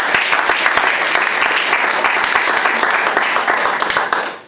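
A church congregation applauding, dense sustained clapping from many hands filling the room, steady and loud before tapering off at the end.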